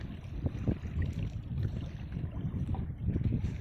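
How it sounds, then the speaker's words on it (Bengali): Empty commercial trawler boats pass on a river, heard as a low, rumbling engine drone mixed with wind buffeting the microphone, steady and fairly distant. "ওই যে বাণিজ্যিক ট্রলারগুলো যাচ্ছে"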